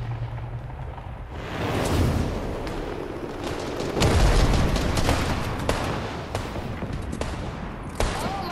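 Burst quad launcher rockets in Fortnite (2021) set off a rolling chain of heavy explosions and crackling blasts, loud and continuous, with a punchier salvo midway.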